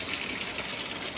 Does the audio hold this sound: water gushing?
yes